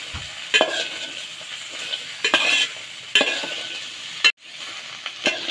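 Okra sautés in oil for a South Indian vendaikaai poriyal, a soft sizzle broken by several distinct scraping and clacking strokes of a spoon against the pan, close and without speech.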